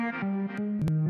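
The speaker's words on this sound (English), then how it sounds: "And now we've got control directly over that filter cutoff." Distorted synth riff in Ableton with its filter cutoff swept by a MIDI controller knob, a bright sustained tone stepping between a few notes while the brightness shifts, heard alone at a steady level.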